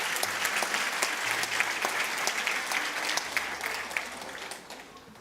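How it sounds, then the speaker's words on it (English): A large gala audience at an agricultural awards ceremony applauds the finalists, with dense, sustained clapping that fills the hall and tapers slightly toward the end. "Another round of applause to our finalists,"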